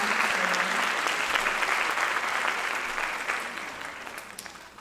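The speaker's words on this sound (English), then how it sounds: "Can we get another round of applause to thank Dr. Sharma" An audience at a Bharatanatyam arangetram performance applauds to thank a guest, dense sustained clapping that slowly fades toward the end.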